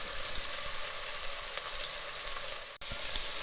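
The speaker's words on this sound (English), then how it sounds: "we are finished frying our chicken in batches" Chicken pieces fry over high heat in grapeseed oil, giving a steady, even hiss and sizzle close by, with one brief dropout near the end.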